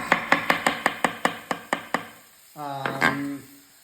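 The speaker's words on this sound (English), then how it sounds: "I'm going to quickly break down these mushrooms" Mushrooms chopped quickly with a knife on a board in an Italian villa kitchen, about ten sharp, evenly spaced chops, close and crisp, followed by a short tonal sound at the end.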